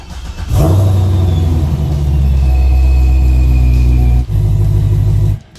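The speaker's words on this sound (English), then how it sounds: "Let me fire up the car and make sure that everything turns on properly." A Chevrolet C6 Corvette engine cranks and fires up with a deep, loud rumble that settles into a steady idle, briefly dipping and blipping again near the end, close by with no talk.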